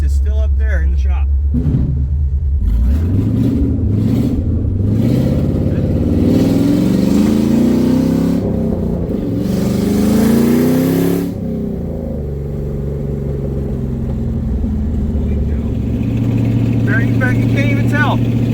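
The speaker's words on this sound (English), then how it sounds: "You can't even tell there's no exhaust on this thing." Ford Mustang GT V8 running with no exhaust fitted, idling and revving in loud rising and falling pulls close by, with someone talking over it.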